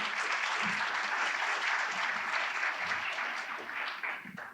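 Audience applause at an Asia Society Seattle annual evening event, a dense, steady clapping from a full room that holds strong for several seconds and then tapers slightly near the end.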